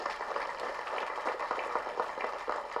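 Audience applause at a Tamil film trailer launch event: steady, dense clapping from a crowd that carries on at an even level throughout, with no voices over it.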